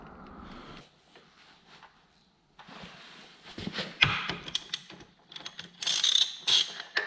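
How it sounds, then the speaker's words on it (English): A flywheel puller is tightened on a GSXR 600 motorcycle engine: quiet metallic ratcheting and scraping at first, then louder sharp clicks, clinks and knocks in irregular bursts close by. "Now we can put our flywheel puller on here, and we will use this to extract the flywheel from the motor."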